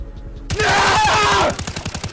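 A short burst of rapid automatic gunfire rings out in a first-person shooter match, loud and close, following quieter rhythmic game sounds.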